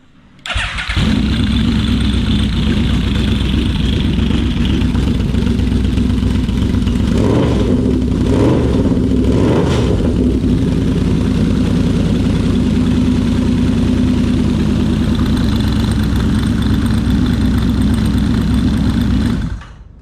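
A Yamaha V-Max motorcycle engine cranks and catches, then idles loudly and steadily for about twenty seconds with a few brief revs in the middle before cutting off.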